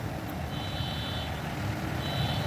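A tow truck or road construction vehicle backing up at night, its reversing alarm sounding as a steady high tone that sits over constant low traffic rumble, fairly distant and not very loud.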